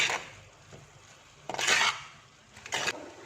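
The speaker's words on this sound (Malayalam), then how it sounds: "നന്നായിട്ട് ഇളക്കി കൊടുക്കാം." Scraping and stirring of a Kerala-style mussel stir fry (kallummakkaya thoran) with freshly grated coconut in a pan, two louder bursts of utensil-on-pan scraping over a quiet background, close by with no talking.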